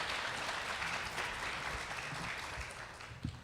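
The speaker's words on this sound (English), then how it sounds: "A big round of applause for our group here today." An audience gives a steady round of applause for a panel at a community event on domestic violence in Harris County; the dense clapping holds evenly throughout with no speech on top.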